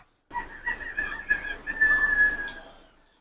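Chattering electronic toy bird Chattermax from the Bluey video game, giving a run of shrill whistling chirps and warbles for about three seconds, close and fairly loud with no talk over it.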